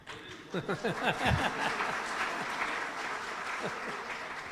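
An audience at a Hindi poetry recital breaks into applause after a brief burst of voices and chuckling, the clapping spreading into a steady, moderately loud crowd roar that fades slightly toward the end.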